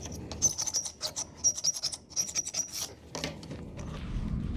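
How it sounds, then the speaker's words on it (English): A scraper rasps dried glue off a wooden board in a woodworking shop, a series of short close scraping strokes in uneven rhythm, then a steadier rougher rub at the end. "We're gonna come in and scrape off the glue."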